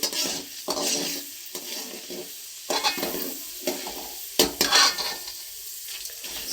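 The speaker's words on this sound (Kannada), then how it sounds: "ಸೊ ಇದು ಫ್ರೈ ಆಗ್ತಾ ಇದೆ" Oil sizzles steadily in a pan during the frying of ingredients for masala chitranna, with repeated stirring scrapes and clinks of a spoon against the pan breaking up the hiss.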